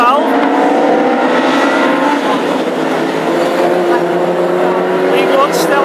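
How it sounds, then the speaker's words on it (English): Classic hot rod race cars on an oval track at Hednesford, one engine having dropped a valve, produce a loud continuous engine drone with shifting tones, running under a commentator's voice. "Well, it sounds like Charlie Shembry's also dropped a valve."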